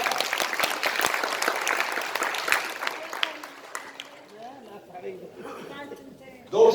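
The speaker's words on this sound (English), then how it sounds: "Give your hands a big round of applause." Audience applause fills a room at a DXN members' meeting, dense and loud for the first few seconds, then thinning out and fading to scattered claps and quieter crowd noise toward the end.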